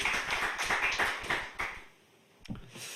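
A church congregation claps together for volunteers during a Sunday service, a dense patter of hand claps for about a second and a half that quickly fades to near silence, then a single faint tap.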